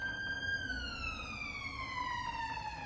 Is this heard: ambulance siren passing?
yes